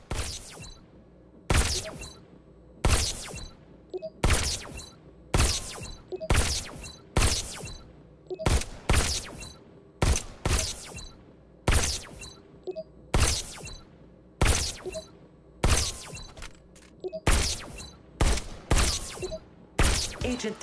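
Pistol gunshots in the VR shooter game Robo Recall, about twenty sharp loud reports at a fairly regular pace of roughly one per second, each with a short decaying tail.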